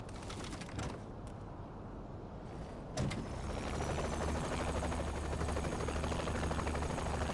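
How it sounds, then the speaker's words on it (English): In Saints Row 3 Remastered, a helicopter drones steadily in flight, its rotor hum swelling louder partway through and then holding a constant roar. "Back to the chopper."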